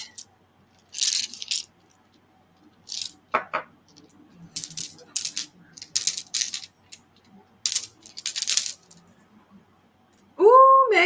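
D20 dice clattering onto a hard surface in several brief rattling bursts, close and crisp with quiet gaps between, ending with a short tonal sound.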